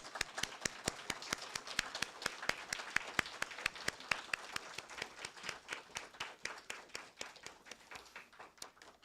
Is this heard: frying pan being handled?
no